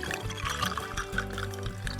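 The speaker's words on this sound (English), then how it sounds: "Pour in coffee" Coffee is poured into a cup with gold-painted horns hot-glued to it, a steady close liquid stream running continuously without a break.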